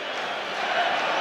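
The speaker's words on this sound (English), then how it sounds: "you can hear the frustration from the Stretford end" Virtual stadium crowd in a FIFA match at the Stretford End, Manchester United against Arsenal, giving a steady, dense roar and murmur of frustration that fills the whole moment without distinct shouts.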